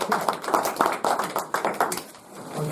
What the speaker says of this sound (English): can we just have a round of applause?